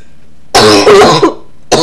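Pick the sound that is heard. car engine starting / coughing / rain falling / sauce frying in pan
coughing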